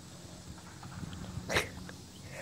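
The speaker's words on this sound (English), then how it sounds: "What a silly dog." Small pet dog, a little doggy, gives one brief bark-like burst midway through, faint and close, over quiet indoor room noise with no talking.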